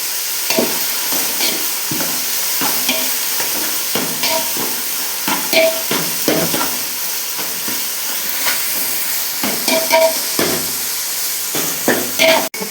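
Tomatoes sautéing with rock salt in a pan for a crab gravy, giving a steady sizzle broken by clattering stirs and scrapes of a spoon against the pan, fairly close and with no voices.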